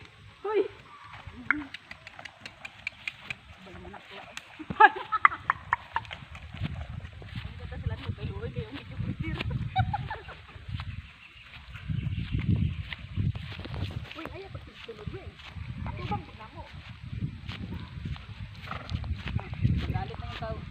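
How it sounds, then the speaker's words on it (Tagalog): Horse hooves clip-clop at an uneven pace under heavy riders, with people talking over them; a few sharper knocks stand out near the start as the tired horse balks. "Galit na yung kabayo."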